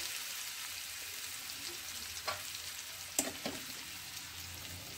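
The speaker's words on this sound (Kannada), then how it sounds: "ಈಗ ಅದನ್ನಿಂದ ಎಣ್ಣೆ ಒಳಗೆ ಹಾಕಾಕತ್ತೀನಿ ನೋಡ್ರಿ." Crushed green chillies with salt frying in oil give a faint, continuous sizzle with a few brief sharp crackles and stirring clicks.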